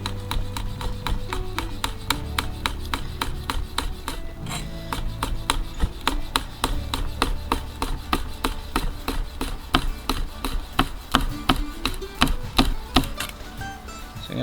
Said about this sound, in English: I'm just gonna chop this up